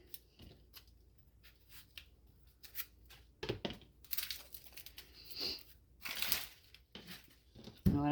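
A vegetable's skin is peeled off by hand while making salsa: scattered crisp scraping, tearing and crinkling bursts close by, sparse at first and then busier and louder toward the end.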